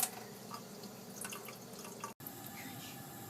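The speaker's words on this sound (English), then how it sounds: "Now pour a little bit of cold water, because you don't want your rice to be sticky." A faint, steady pour of cold water splashing onto rice in a container, soft and continuous with a brief dropout near the end.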